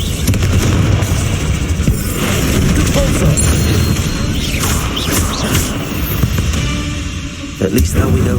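A Confringo fire spell from Hogwarts Legacy explodes several times among game noise, with loud booming bursts and crackling debris, and a voice speaks over the clatter.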